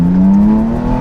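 A BMW F80 M3 engine, loud and close, sustains a steady rising drone with strong low harmonics, sounding like revving and pulling hard through a gear while driving, with no talk.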